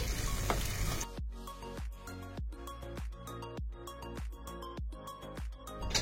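Potatoes sizzle in a pan of hot oil while a spatula stirs them in a steady rhythm, about one scraping stroke every half second, after a brief burst of louder frying noise at the start.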